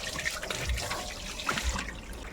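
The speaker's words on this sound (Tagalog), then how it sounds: "Ngayon, hugasan natin tong karne." Water runs and splashes over raw meat being washed at a campground, a steady close trickle with a couple of soft thuds as the meat is handled.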